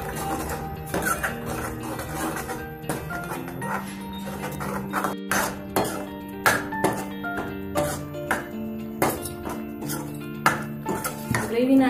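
Spoon stirring dum aloo gravy in a pan: repeated metallic clinks and scrapes against the pan in an irregular rhythm, close and moderately loud over a steady low cooking hum.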